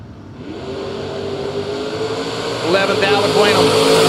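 Camaro in a footbrake-challenge drag race, engine droning steadily and rising in pitch as it accelerates near the end, with an announcer talking over it throughout.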